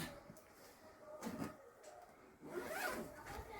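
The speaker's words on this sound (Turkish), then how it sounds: "Şuradan itibaren de fermuarı kapatıyoruz." A zipper on an IKEA mattress cover is pulled closed in a few quiet, raspy strokes, with short pauses between pulls.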